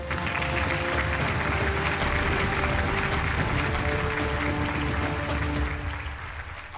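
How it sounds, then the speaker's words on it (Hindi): Steady audience applause at a hospital gathering in a Hindi television drama, a continuous wash of many clapping hands under a sustained musical tone, fading slightly at the end. "तालियां।"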